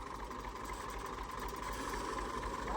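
A steady tractor engine drones at low volume throughout, a continuous mechanical hum with no voices.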